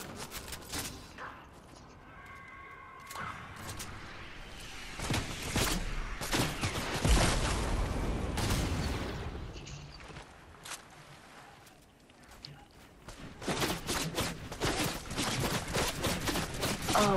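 Rapid bursts of Fortnite gunfire crack out repeatedly in a duos match, sharp shots scattered across the clip with footsteps and a brief quieter stretch between volleys.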